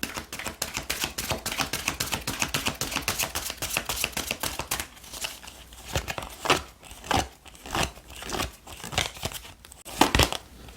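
Tarot cards are handled and shuffled close up, a fast rippling riffle of crisp card snaps followed by slower, separate slaps and slides as cards are laid down, with no talking.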